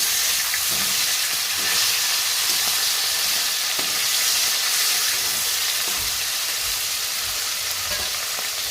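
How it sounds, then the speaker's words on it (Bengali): Fish pieces and tails sizzling in hot oil in a wok while being turned over, a dense continuous loud frying hiss with occasional scrape and spatter pops up close, no one talking. "মাছগুলো যেহেতু আমি খুব বেশি করে ভাজবো না তার জন্য আমি একটু উল্টে পাল্টে নেবো মাছগুলো"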